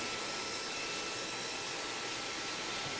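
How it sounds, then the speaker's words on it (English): A hair dryer runs continuously during a barbershop low taper fade, blow drying the hair with a steady, even broadband whoosh for the whole stretch. The sound is moderately loud and close, with no talk over it. "I do like to take my time blow drying and making sure the hair is like thoroughly dry."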